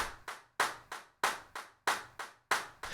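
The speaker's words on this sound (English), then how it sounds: "there's not much going on aside from the additional clap right here" Sampled hand claps in the second verse of a produced song, crisp and evenly spaced in a steady rhythmic pattern, each with a short decaying tail.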